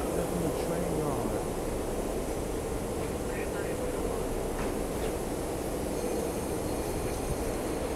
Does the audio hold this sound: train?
yes